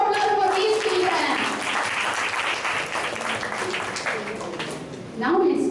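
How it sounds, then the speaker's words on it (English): Steady applause from an audience for a children's stage performance, continuous clapping throughout, swelling again near the end, with a voice faintly underneath. "Give them a tons of applause for these children."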